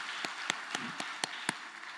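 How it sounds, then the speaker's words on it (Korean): A church congregation applauds during a Sunday morning worship service, with faint, evenly spaced claps landing in a steady quarter-second rhythm against a quiet hall. "우리 수고하신 우리 성도님들 향해 다 같이 박수로 뜨겁게 격려해 주시겠습니다"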